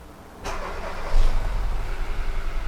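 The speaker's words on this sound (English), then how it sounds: "Let me start the engine." A car engine with a cylinder misfire problem cranks briefly and catches, settling into a steady, close, low idle rumble with no one talking.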